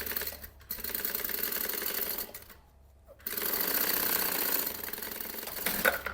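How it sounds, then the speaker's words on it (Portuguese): Sewing machine running a straight seam along a maternity bag panel, a steady fast mechanical whir that stops briefly partway, then resumes at constant loudness until the end. "e vai passar uma costura de um pé de máquina, tá bom? De fora a fora."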